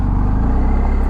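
A car engine rumbles steadily and close by, a brief low droning pass of a car on a back country road, heard from a stopped motorcycle.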